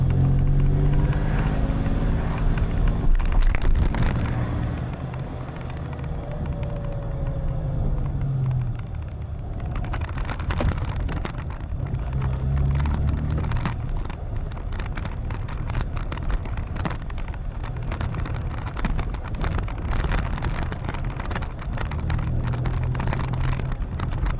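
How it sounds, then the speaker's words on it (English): A solid-axle-swapped Toyota Tacoma drives over rough ground with a steady engine rumble, while bursts of rattling clatter and clunks from the locker come and go, loud and close throughout. "I think it's coming from the locker. Clatter and clunking noise as well."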